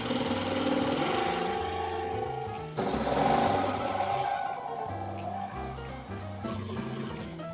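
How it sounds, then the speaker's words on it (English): A jigsaw cuts through a piece of wood with a loud, fast buzzing chatter. The blade pauses briefly partway through, then resumes, and the cut runs on steadily close by without any talk. "I need to go in with the jig cutter or whatever the it's called, and jigsaw, and go in and cut this piece right here"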